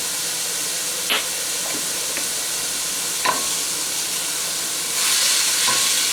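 Thyme tossed into vegetables in a hot pot while cooking red beans with andouille sausage, a steady close sizzle with a few soft stirring clicks and a brief rise in hiss near the end, no talking.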